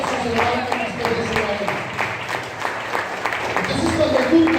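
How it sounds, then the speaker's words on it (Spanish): Applause from a church congregation, a scattered, moderately loud patter of clapping that lasts a few seconds, with voices mixed into it. "Ese aplauso se lo van a ustedes."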